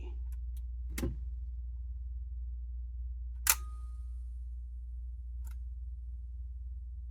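A Nikon F3 film camera shutter set to T mode fires twice, with a sharp mechanical click near the start and a louder crisp snap midway, plus a few faint ticks, all close against quiet room hum and no voices.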